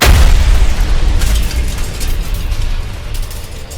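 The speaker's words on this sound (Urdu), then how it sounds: "رات کا کوئی 12 بجے کا وقت ہوگا کہ کمرے سے زوردار دھماکے کی آواز آئی۔" A loud explosion booms in a room at night in a horror story, a heavy low blast that rumbles and slowly fades over several seconds.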